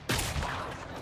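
A single sharp gunshot blast in the video game Killing Floor 3, a loud sudden crack followed by a short decaying boom, heard alone.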